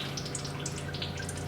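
Coolant dripping into a bucket beneath a Nissan 3.3L V6 engine during a timing belt and water pump job, a steady wet patter of drips and trickling liquid, close and continuous.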